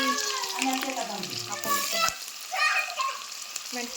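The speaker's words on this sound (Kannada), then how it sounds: "ಎಣ್ಣೆ ಹಾಕ್ತೀನಿ ಇದಕ್ಕೆ ಒಂದು ಸ್ವಲ್ಪ ಸಾಸಿವೆ ಹಾಕೊಳ್ತೀನಿ ರೀ ಚಟಪಟ ಇವಾಗ ಚಟ ಚಟಪಟ ಅಲ್ಲತ್ತಾಗ ಉಳ್ಳಾಗಡ್ಡಿ ಮೆಣಸಿನ್ಕಾಯಿ" Mustard seeds, onion and chilli fry in hot oil with a crackling sizzle, while a voice talks over much of the cooking.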